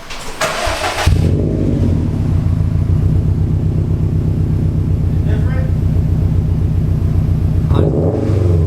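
A 2019 Subaru STI fitted with a Remark muffler-delete exhaust starts up and settles into a loud, deep, steady burbling idle close by, with a short flutter near the end; voices talk over it.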